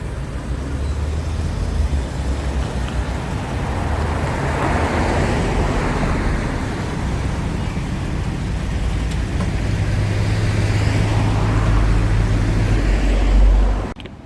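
A 1985 Jaguar XJS and another car being moved out of a garage, with a steady engine rumble and idle throughout, rising slightly near the end before cutting off.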